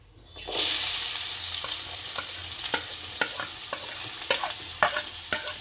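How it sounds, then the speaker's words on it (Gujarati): Chopped onion drops into hot oil with dried red chillies, bay leaf and cinnamon pieces for a spinach chickpea masala. A loud sizzle erupts, then a steady close hiss with repeated scraping stirs; no talking. "હવે આપણે આની અંદર કાપેલી ડુંગળી નાખીશું"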